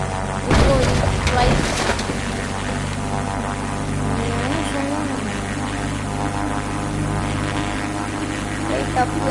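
Propeller airplane landing in a video game, a steady droning engine hum with a brief bump early on, heard under someone talking.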